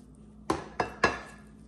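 Utensils clink three times against a dish while grainy homemade khoya is served out, each sharp metallic tap close and distinct over a quiet background.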